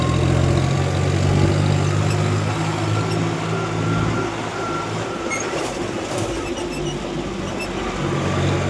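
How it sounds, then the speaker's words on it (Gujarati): A tractor rumbles steadily along a cement road, its engine drone loud and close throughout, with a faint high beeping and some rattling knocks partway through. "હવે આ સિમેન્ટ રોડ છે, આમાં આગળ ટેકડા જ મારશે ટ્રેક્ટર."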